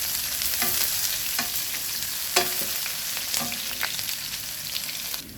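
Onion frying in homemade garlic oil hisses in a bright, steady sizzle, with occasional spatula scrapes and taps against the pan, close up and free of speech.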